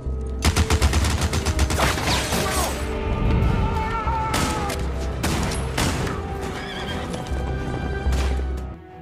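Machine gun fire in a movie scene mixed with horses whinnying and hooves clattering, loud dense bursts of gunfire layered over galloping and neighing throughout.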